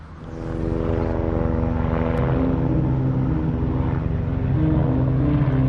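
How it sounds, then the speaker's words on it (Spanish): Propeller warplanes of the Spanish Civil War, Russian, Italian and German, drone overhead in a loud, sustained engine roar that swells in after a quiet start and holds steady, with no voices. "Aviones rusos, italianos y alemanes comienzan a disputar el cielo del Jarama"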